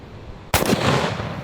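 A 2 bore blunderbuss fires a single deafening blast at a 55-gallon water drum. The sharp crack follows a moment of quiet and trails off into a long, rumbling decay.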